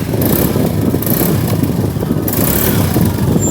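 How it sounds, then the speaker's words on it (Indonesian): A motorcycle engine running on Federal Ultratec 20W50 oil, a loud close, steady rumbling idle with rough exhaust pulses throughout and no voices. "suara knalpot lebih keluar, lebih bebas"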